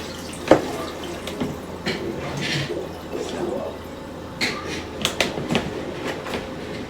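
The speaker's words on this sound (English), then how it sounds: "I always rinse until I see the water is clear" Oxtail meat rinsed under a running kitchen tap, with a steady splashing, hissing stream and a few sharper knocks and clatters, close and moderately loud.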